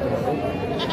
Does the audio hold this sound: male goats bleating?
yes